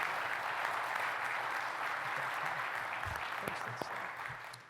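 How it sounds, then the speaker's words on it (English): An audience at a distinguished service award event applauds the staff, producing a continuous, even roar of clapping heard from within the room that tapers slightly at the end. "give this whole staff and Jamie a big applause"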